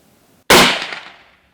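A single loud hunting rifle shot at a white-tailed deer in South Texas, a sharp close crack followed by a rolling echo that fades over about a second.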